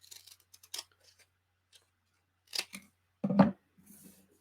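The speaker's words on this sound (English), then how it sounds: "So I'm going to cut this tab off." Scissors snip through a paper tab in a few sharp, close cuts, the loudest near the end, separated by quiet pauses and light handling sounds.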